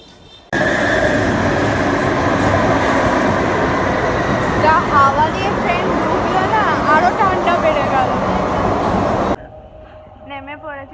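A metro train runs with a loud, constant rumble and rattle, wheels squealing in wavering tones midway, before the noise drops away near the end.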